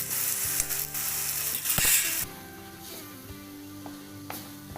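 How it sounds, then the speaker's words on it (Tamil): Ginger garlic paste, onion and tomato sauté in a pan for a crab gravy. A loud, close sizzle with stirring clatter drops after about two seconds to a softer simmering fry with occasional utensil knocks. "இஞ்சி பூண்டு பேஸ்ட்டு, வெங்காயம், தக்காளி எல்லாம் நல்லா வதங்கிடுச்சு."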